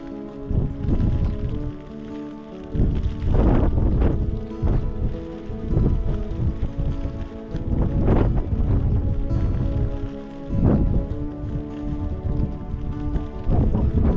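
Strong wind buffets and roars in repeated heavy gusts at a night campsite in a Himalayan valley, loud and close, rising and falling across the whole stretch.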